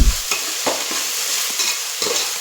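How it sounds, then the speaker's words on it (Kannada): Ginger garlic paste sizzles steadily in a hot pan, with repeated scraping knocks of a spoon stirring it close up and no talking. "ಆ ಪೇಸ್ಟಿಂದು ಹಸಿ ವಾಸನೆ ಹೋಗೋವರೆಗೂ ಸ್ವಲ್ಪ ಫ್ರೈ ಮಾಡೋಣ"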